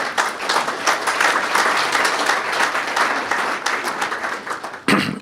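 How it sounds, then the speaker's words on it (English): Sustained applause from a sizable crowd at a city's State of the City address, dense steady clapping that holds for several seconds before a brief dip and a final burst. "Go ahead and give that a nice round of applause."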